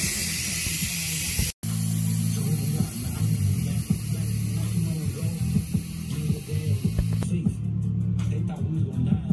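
Steam hisses out of a rice cooker's release valve in a long, steady broadband rush that stops briefly at the start, under low humming and a voice talking nearby.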